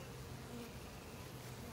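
Honey bees buzz steadily at close range during a May hive inspection, a dense, even drone with no voices over it.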